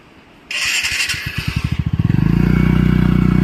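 A scooter on a mountain road in Tuli, Nagaland revs up from a sharp start, its engine pulsing in quickening beats before settling into a steady, loud drone close by.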